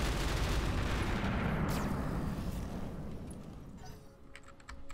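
Heavy gunfire and explosive blasts from a mech battle in the BattleTech mod Roguetech, a dense roaring barrage that fades toward the end with a few sharp impacts.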